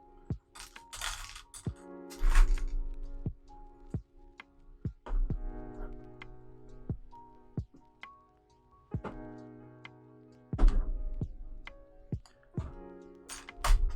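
Headphones knocking against a desk: several sharp knocks and thuds against a hard surface, irregular and close, with rustling and faint background tones between them.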